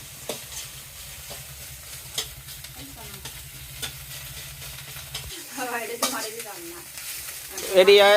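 Cauliflower frying with egg in a pan, with steady stirring scrapes and a low sizzle through the first part, then softer sizzling while voices talk in the background toward the end.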